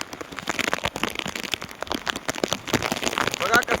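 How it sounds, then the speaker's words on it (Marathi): Heavy rain from a storm patters on surfaces around boats in a creek, an uneven crackling spatter with sharp drops and gusty noise, while people talk over it. "बघा कसा पाऊस लागलेला आहे भरपूर."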